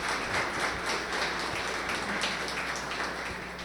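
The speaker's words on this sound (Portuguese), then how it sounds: "Vou pedir então uma salva de palmas para o Rodrigo." Audience applause at a Tektronix technical talk during the SIGE 2025 conference: a steady, fairly quiet wash of many hands clapping together, sustained throughout and tapering off slightly at the end.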